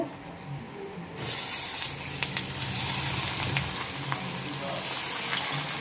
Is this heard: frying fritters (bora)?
yes